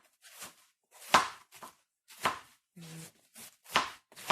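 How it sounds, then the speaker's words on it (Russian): A knife chops through cabbage on a cutting board in a home kitchen, with about eight crisp, uneven strokes close by and one short voiced sound between them. "Надо мне нарезать всю вот капусту"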